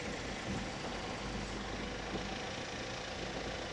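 A 2021 Toyota RAV4 engine runs at a steady idle during an automatic transmission fluid change, a continuous close rumble with no talk over it.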